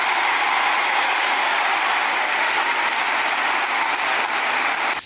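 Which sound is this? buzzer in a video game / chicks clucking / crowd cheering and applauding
crowd cheering and applauding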